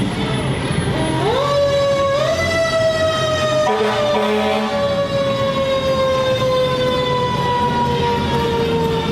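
The siren of a district fire engine in a town festival parade winds up and then holds a loud, falling wail, with harmonics gliding down over several seconds. Crowd and engine rumble sit underneath.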